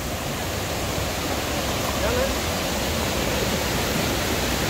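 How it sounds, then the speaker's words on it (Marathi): Sada waterfall in a forest in Chorla Ghat on the Belgaum-Goa border, a steady broadband roar of rushing water that holds evenly loud and unbroken throughout, with no other distinct sounds standing out. "इथून पाहताय आपण आता सडा फॉल"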